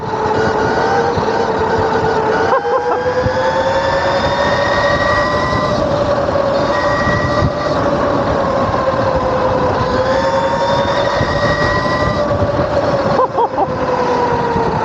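A modified cheap Alibaba EM-23 electric dirt bike motor, its throttle set to sport mode, accelerating under load with a loud, sustained high-pitched whine that holds steady and swells slightly through the run.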